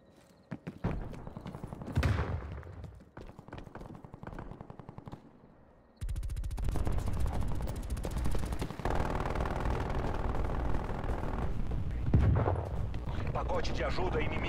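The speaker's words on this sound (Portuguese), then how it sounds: "Minha torreta tá destruindo geral" Automated turret fire in Call of Duty: Black Ops Cold War, fast sustained bursts that start sparse and become a loud, continuous rattle, with a player talking over the shooting.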